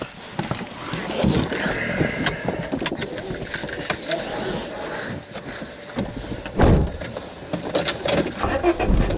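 A car engine cranks and catches among interior rustling and key jangling, steady and close inside the vehicle, with a sharper thump partway through.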